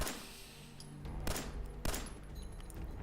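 Distant 10mm pistol fire in the Fallout 4 video game: two sharp shots about half a second apart over a dense background of game ambience.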